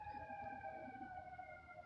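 A wailing siren holds steady tones at a distance, faint and continuous with no voices.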